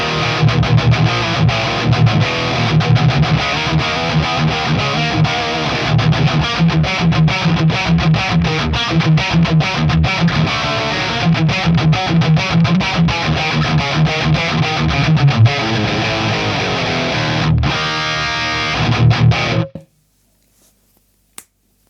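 An electric guitar played through a Splawn Quick Rod amp on the OD2 channel's third gear, with no boost, chugs out tight, percussive crunch riffs, loud and continuous for about twenty seconds before cutting off abruptly into silence.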